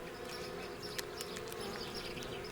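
Wasps buzz faintly in a continuous, thin drone, with a few brief, slightly louder passes as individual insects fly close.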